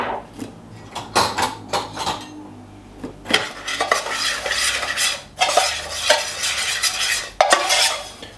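Spoon stirring paprika and turmeric into a mixture in a bowl, with repeated scraping and clinking against the bowl in bursts, close and fairly loud, no talking.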